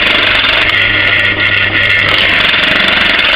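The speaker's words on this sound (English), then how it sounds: "Every so often bring the cutter up to clear out the shavings from the hole." A Conecut cutter in a drilling machine bores a hole through wood, making a loud, steady machine drone with a brief dip partway through.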